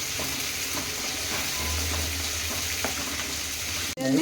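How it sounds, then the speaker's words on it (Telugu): Okra sizzles steadily in hot oil in a pan, a constant close crackling hiss with faint stirring, no talking. "నూనెలో ఫ్రై అయితేనే మంచిగా ఉంటుంది బెండకాయ"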